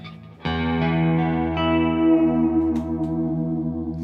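An electric guitar chord is struck and left to ring with heavy reverb, sustaining loudly and slowly washing out over several seconds.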